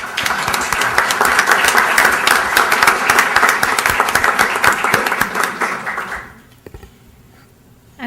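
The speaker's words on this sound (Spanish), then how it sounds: "pido un aplauso, por favor" An audience at a book presentation applauds with loud, dense clapping for about six seconds, then it fades to scattered claps and room quiet.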